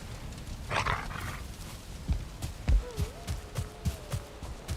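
Tame wolf dogs in Valheim bark in a string of short, fairly close yelps and woofs, with a brief rough growl early on and a faint whining tone in the background.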